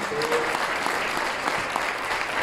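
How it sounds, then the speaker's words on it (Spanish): A crowd at an awards ceremony claps continuously, a full, even round of applause lasting a couple of seconds. "Un gran aplauso, por favor, a todos."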